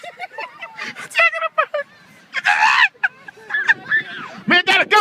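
Seagulls call in loud, shrill, repeated squawks close by, overlapping one another, while people talk excitedly among them.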